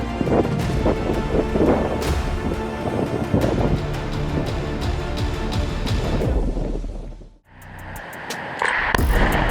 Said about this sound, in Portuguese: O ruído do vento e os sons do gelo batendo contra as rochas deixam tudo ainda mais épico.